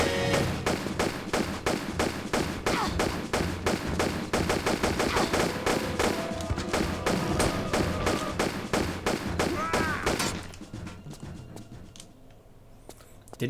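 Rapid pistol gunfire in a Lara Croft game, dense and steady, cracking shot after shot for about ten seconds before thinning out into a quieter ambience with occasional faint pops.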